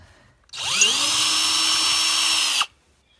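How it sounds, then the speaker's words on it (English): Quarter inch nut driver, likely powered, spinning out screws during teardown of a Myers 2.5 HP irrigation water pump, one loud steady whine of about two seconds that rises at the start and stops abruptly, close up. "You can either use the quarter inch nut driver or a screwdriver."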